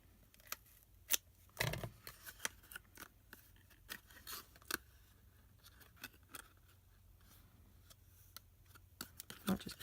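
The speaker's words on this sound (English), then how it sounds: "I'll just trim that end a little bit." Scissors snip paper while Easter egg boxes are being crafted, with a few crisp, close cuts among faint ticks and light handling noises in a quiet room.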